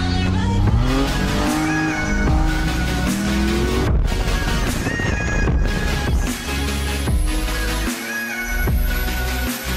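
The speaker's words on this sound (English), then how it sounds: "ECU's in the car. We're gonna turn her on" A car engine starting up for the first time on a newly installed Link ECU in a home garage, cranking and then running loud and close with uneven revving throughout.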